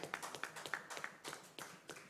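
A small audience at an expo claps in a sparse, uneven patter of distinct hand claps, faint and somewhat distant, with no voices over it.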